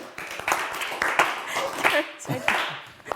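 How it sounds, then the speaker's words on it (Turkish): Scattered, thin clapping from a small group on a TV word game show, loose and uneven, with voices talking over it throughout. "üzgün alkışa bak ya"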